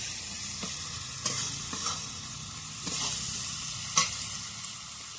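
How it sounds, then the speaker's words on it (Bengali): Onions frying with salt in a pan give a low, steady sizzle, broken by a few brief scrapes and clicks of stirring. "বন্ধুরা দেখো পেঁয়াজ লবণ দিয়ে ভাজছি"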